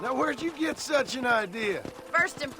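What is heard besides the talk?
No everyday noises stand out.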